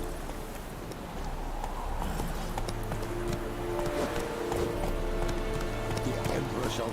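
Roach, a horse in The Witcher 3, gallops with a steady clip-clop of hooves beneath continuous game music and ambient sound, with a voice speaking over it.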